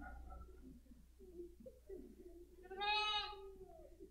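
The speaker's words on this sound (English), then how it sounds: "We have a sheep here." A lamb bleats once in a wavering, nasal cry during a church gathering, close and fairly clear over quiet room noise and soft indistinct voices.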